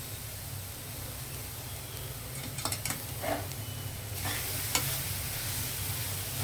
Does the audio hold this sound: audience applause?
no